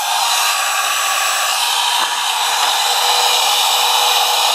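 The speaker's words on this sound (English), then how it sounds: "So once the heat gun warms up, it'll start doing its job." A heat gun used to restore a sun-faded plastic car wiper cowl blows with a loud, steady, close-up airflow roar that holds even throughout.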